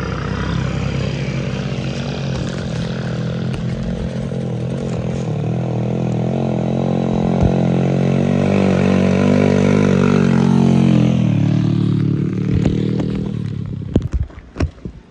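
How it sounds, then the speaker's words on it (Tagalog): Motorcycle labouring up a steep slope, its engine droning loud and close at a strained, steady pitch, then rising and faltering before a burst of clattering knocks at the end. "Guys, hindi makaakyat ang isang motor."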